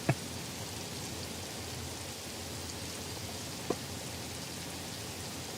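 Steady rain drumming on a roof, a dense even wash of patter that fills the whole stretch, with a couple of brief sharper knocks standing out near the start and later on.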